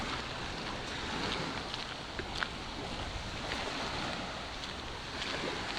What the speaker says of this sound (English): The waves sound different.